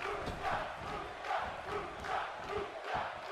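A wrestling arena crowd at a WWE 205 Live show in Washington state roars steadily, swelling in rhythmic pulses like a chant or clapping cheer, loud and continuous with no clear voice on top.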